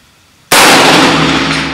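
A single sharp rifle shot at a target, a sudden loud crack after a moment of quiet that decays over a second with a lingering echo.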